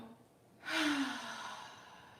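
A single slow exhale during guided breathing, a soft breathy sigh that starts abruptly and fades gradually, heard close up with no talking.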